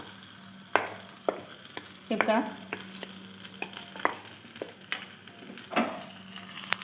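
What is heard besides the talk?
cumin and chilli sizzling in hot oil for tempering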